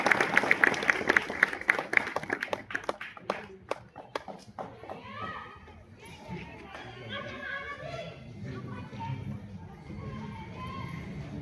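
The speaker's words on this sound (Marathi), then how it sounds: "आमचे मित्र आले जाधव पाटील, कृपया आपण सर्वांनी जोरदार टाळ्या वाजवून त्यांच्या ठिकाणी स्वागत करायचं आहे." Loud applause with scattered claps at a Shiv Jayanti lecture event fades into a murmuring crowd of chatter and voices.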